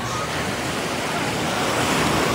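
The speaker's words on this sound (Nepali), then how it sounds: "छाल हेर्नु न, छाल" Sea waves wash onto Tamesa beach in Shenzhen as a steady, close hiss of surf, with wind rushing across the microphone.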